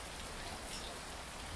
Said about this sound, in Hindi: बारिश बहुत सख्त हो रही है, हो हो हो हो हो, तूफानी बारिश, बहुत बारिश हो रही है।